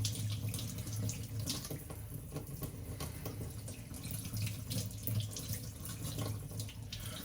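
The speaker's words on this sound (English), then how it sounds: "Turn a little bit of water, tip it." Warm water runs steadily from a tap into a sink to rinse two gold Rolex watches, a constant close splashing stream with faint drips and no talking.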